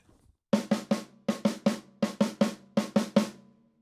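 A drum kit plays a sixteenth-note fill pattern in three-note groups across four beats, giving a crisp, even run of close hits that stops cleanly, with no talking.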